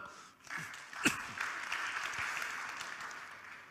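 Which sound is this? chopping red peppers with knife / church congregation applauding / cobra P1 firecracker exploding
church congregation applauding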